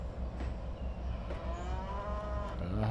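Cattle in Trainz Railroad Simulator 2022 moo with a long, drawn-out call rising near the end, heard over a steady low rumble of train or engine noise throughout.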